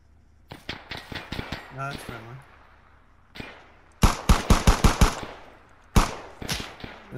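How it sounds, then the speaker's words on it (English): During an ambush, close rapid bursts of gunfire crack out in quick strings with short pauses between volleys, and a voice calls out briefly between the early shots. "There's a lot of shooting over here."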